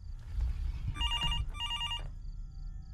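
Hotel room telephone ringing at night, two electronic trilling rings in quick succession, moderately near over low room rumble.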